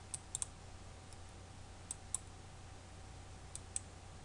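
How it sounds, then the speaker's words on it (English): Sharp, quiet computer mouse clicks come in small clusters and single taps over a faint steady hum, with several separate bursts spread through a quiet room during work in Flash animation software. "in frame 1 I hold down the control key and I click frame 1 and armature 2"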